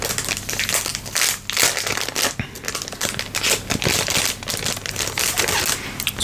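Plastic product packaging crinkles and crackles continuously as it is handled up close, dense irregular rustling bursts with no voice.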